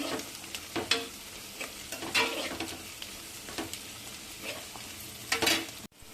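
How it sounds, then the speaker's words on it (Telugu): Ivy gourd (dondakaya) curry frying in a pan, with a steady sizzle and occasional stirring scrapes and clinks throughout, close up and with no talking. "వేగిపోయాయండి చాలా మట్టుకి"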